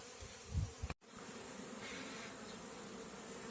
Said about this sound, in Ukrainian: І бджілки вже активно понесли пилок.